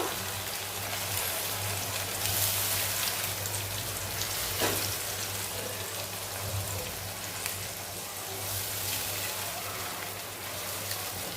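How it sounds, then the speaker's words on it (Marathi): Steady, close sizzling of tomato puree being stirred into the masala for dhaba-style dum aloo, a continuous hiss with faint scraping throughout. "त्यानंतर आपण टोमॅटो प्युरी घालणार आहोत व्यवस्थित मिक्स करून घेऊया हे सर्व"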